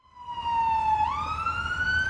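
An ambulance siren on a road wails loudly and steadily close by, its tone sliding down and then climbing again over a low traffic rumble, with no talking.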